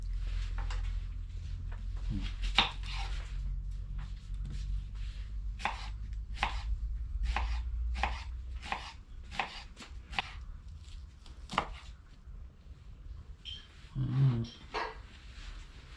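Rapid, steady knife chops on a cutting board while chopping an onion, sharp repeated clicks with a low rumble underneath, then a brief murmur near the end.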